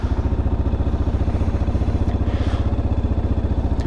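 A 2022 Kawasaki KLR650 fuel-injected motorcycle with a 40-horsepower engine idles close by, its steady rapid thumping pulse loud and even throughout, with a little mechanical clatter.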